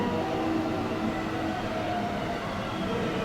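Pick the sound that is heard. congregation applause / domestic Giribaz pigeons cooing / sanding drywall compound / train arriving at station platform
train arriving at station platform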